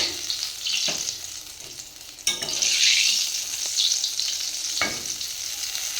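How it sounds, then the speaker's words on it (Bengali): Oil sizzles and crackles steadily as bok (hummingbird tree) flower fritters deep fry, with a few sharp pops and a louder burst of bubbling partway through. "এখন ভাজতে দিয়েছি, দেখি এটা কেমন হয়"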